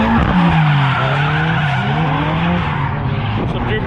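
Drift cars skid around the track at Walla Walla, with a loud, continuous tire squeal and engine roar close by. Faint voices are mixed in.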